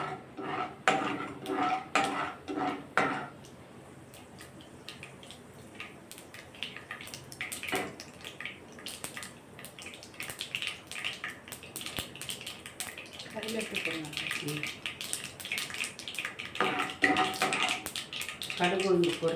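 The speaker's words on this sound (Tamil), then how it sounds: "கடுகு உளுந்து பொரியட்டும்." Mustard seeds and urad dal splutter in hot oil in a kadai for egg thokku, a steady scatter of sharp crackling pops and clinks running throughout while a person speaks.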